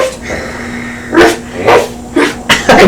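A person imitates a dog barking on a children's show, giving four or five loud, close woofs in an uneven rhythm after a quieter opening, with no other voices.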